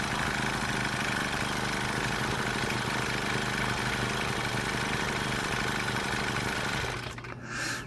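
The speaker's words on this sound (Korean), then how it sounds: "연료통 밖으로 빼내고 시동을 유지하고 있으면 연료 호스하고 카브레타에 남아있는 휘발유를 모두 태우고 한 1분에서 2분 정도 지나면 시동이 꺼집니다." Engine brush cutter idling with its fuel tank removed to burn off the petrol left in the hose and carburetor, a loud, steady, close mechanical drone that dips and wavers briefly near the end.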